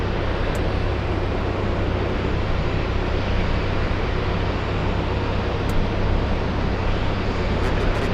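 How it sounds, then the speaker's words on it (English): An Airbus A330neo airliner at Boston Logan Airport gives a loud, steady, unbroken roar with a constant low hum underneath, holding level for the whole stretch with no voices. "what is this, A330 Neo? Flying back to London."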